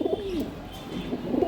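Pigeons at a pigeon farm coo in soft, throaty rolling calls, several overlapping close by, with a faint chirp among them.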